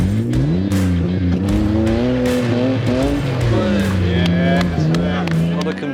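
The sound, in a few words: car starting a timed hill run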